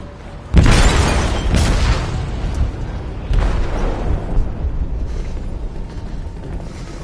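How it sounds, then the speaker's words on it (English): An explosive goes off in a ship's hold in a video game, a heavy deep boom at the start followed by a second blast a few seconds later, both trailing into a long rumbling decay. "They detonated an explosive in the hold. The ship is sinking, sir."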